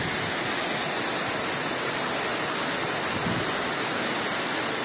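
Dense, constant roar of a waterfall in Serra da Canastra, Brazil, loud and close with an even wash of falling water and no voices over it.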